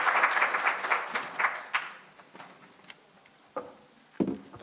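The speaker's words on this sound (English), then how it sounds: "Can we just give a round of applause?" Scattered applause at an emerging researchers' health and biomedical symposium, a brief burst of clapping that quickly thins to a few isolated claps, moderately close and fading.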